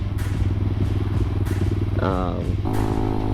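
An ADV Moto 190R motorcycle engine drones steadily at close range while riding, with the pitch sweeping up and down as it revs and shifts, over faint clatter and wind.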